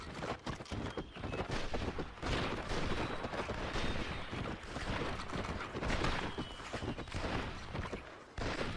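Dense, continuous gunfire from the video game Red Dead Revolver on Xbox, with rapid overlapping shots forming a loud, steady barrage that lasts the whole stretch, with no talking.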